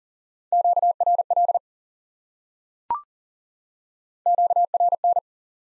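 Morse code for QRL sent as crisp, steady single-pitch beeps in two identical bursts a few seconds apart, with one brief click in the silent gap between them.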